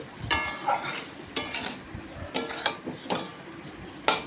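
A spoon scrapes and clinks around a pan of prawn and plantain (bichekola) curry in a slow, gentle rhythm, with about five distinct knocks against the metal over a faint sizzle, close and moderately loud, without any speech.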